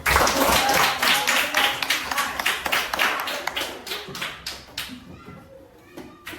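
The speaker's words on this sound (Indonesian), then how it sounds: "kita beri dulu tepuk tangan" Classroom applause from a group of children, dense rapid clapping that starts loud and thins out into scattered claps over several seconds, with faint kid chatter underneath.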